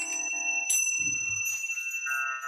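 Small bright Tibetan bells ring and jingle close by, with clear sustained metallic tones and a brief shaking burst in the middle.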